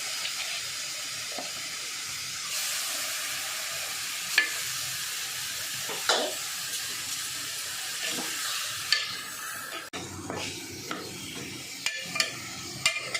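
Mutton pieces sizzle and spit steadily in hot oil in a pot, with intermittent scraping and clanking stirs of a spoon over the continuous frying hiss; no one speaks.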